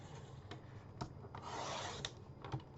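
Card stock is cut down to size for a 5 by 7 card with short, soft scraping strokes, close and quiet, and several brief rasping passes.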